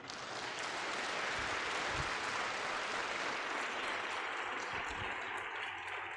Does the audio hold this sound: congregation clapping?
yes